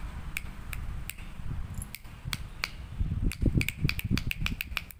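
Finger snaps with both left and right hands, a series of sharp crisp clicks, sparse at first then quicker in a rapid run, close by over a low rumbling hum.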